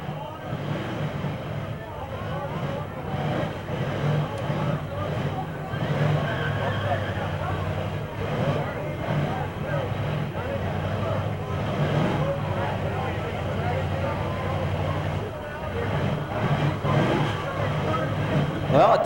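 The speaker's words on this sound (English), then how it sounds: "Well, I hear engines running down there" Street stock race car engines idle and rumble at Merced Speedway in 1989, a steady low drone beneath people talking and crowd babble.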